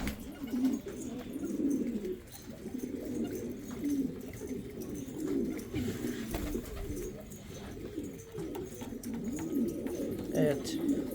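Pigeons cooing in a loft, soft repeated low throaty coos close by over steady background rustle, with a voice talking over part of it.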